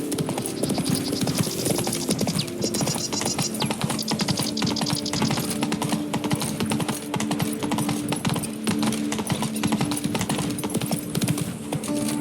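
Hooves clip-clop steadily in The Witcher 3, a horse's even stride carrying on throughout at close range over a continuous musical bed.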